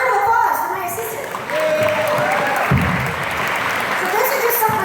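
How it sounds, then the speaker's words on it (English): An audience applauds an assistant at a convention panel, a dense patter of clapping that rolls on steadily and fades near the end, with voices talking over it. "Round of applause for my assistant."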